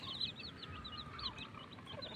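Backyard pet chickens and small chicks peep and cheep softly at a distance, high repeated chirps over faint outdoor background noise.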